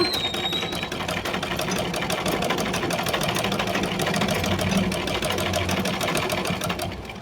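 Sewing machine stitching along the edge of a fabric neck piece, a continuous rapid mechanical whir with fine rhythmic needle clatter, close and steady throughout without any voices.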